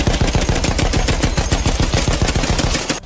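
Machine gun fire in a Western Front Ace World War I dogfight against a French Nieuport: a loud, close, unbroken rapid burst of rattling shots lasting about three seconds.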